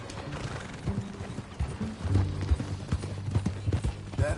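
Horse hooves clip-clop at a steady walking rhythm in the video game Red Dead Redemption 2, fairly close, over a bed of other game sounds.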